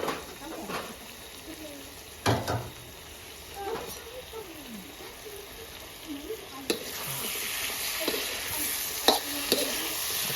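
Zucchini sizzling as it fries in a pan over a steel wood-fire stove in Fiji, with a steady hiss, occasional stirring clatters and utensil knocks, and people talking nearby.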